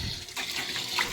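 Water flows and splashes through the PVC pipes of an aquaponics setup, a close, continuous gurgling trickle with a bright burble near the end.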